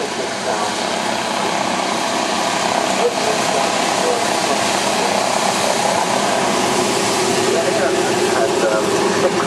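P-51 Mustang with a rattling engine note rumbles past at an airshow, a steady broad roar that holds throughout while someone talks over it.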